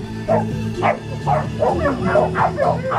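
A Shetland sheepdog at the start line of an agility run barks in a quick series of sharp, close yips, about six or seven over a few seconds, alone with no talk.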